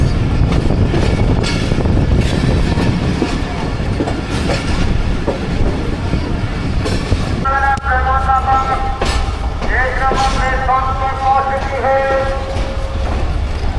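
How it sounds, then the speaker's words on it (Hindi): The Rehman Baba Express rolls into Hyderabad Junction, a loud rumbling clatter of wheels on rails that gives way to high squealing brakes as it slows, with voices talking over it. "हैदराबाद जंक्शन पहुंच गई ट्रेन हमारी प्लेटफॉर्म नंबर 1 पे"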